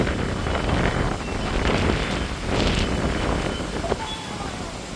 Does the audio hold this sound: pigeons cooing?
no